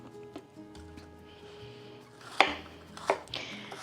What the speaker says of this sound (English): And you just want to cut your onions up into thin slices.